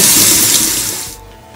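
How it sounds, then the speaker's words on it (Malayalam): Cold tap water gushes loudly over freshly cooked noodles in a kitchen sink, a steady close rush that fades away after about a second. "നന്നായിട്ട് തണുത്ത വെള്ളം റണ് ചെയ്ത് അതിനെ തണുപ്പിച്ചെടുക്കണം."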